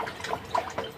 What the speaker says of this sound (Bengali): এইভাবে জল দিয়ে দিলাম।